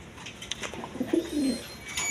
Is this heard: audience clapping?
no